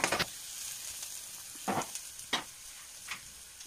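Food frying in a covered pan over a medium flame gives a steady, faint sizzle with a few brief louder crackles and stirring bursts.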